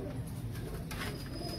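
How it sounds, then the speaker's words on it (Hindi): Soft, low pigeon coos repeat close by against a quiet background, with no talking. "ये सारे प्योर क्वालिटी के अंदर कबूतर है"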